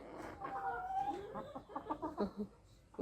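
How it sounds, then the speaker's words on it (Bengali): Chickens cluck in short, bursty calls, fairly quiet, with a brief louder squawk at the end. "ফার্মে মুরগিও ডাকতেছে"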